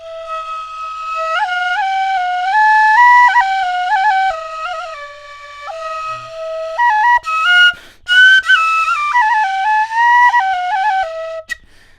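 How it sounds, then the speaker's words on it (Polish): A homemade copper flageolet whistle plays a close solo tune in steady stepped notes. Toward the end the tone turns rough, breathy and unstable, with a few dropped notes. "No a to jest jeden z pierwszych flażoletów, który zrobiłem z miedzi."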